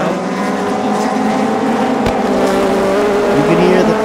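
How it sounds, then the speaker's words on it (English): Race cars at a Thailand Super Series round at Chang International Circuit, a loud continuous engine roar past the grandstand with shifting pitch, a brief sharp transient midway and a commentator talking over it. "You can hear the cars passing around the grandstand right here."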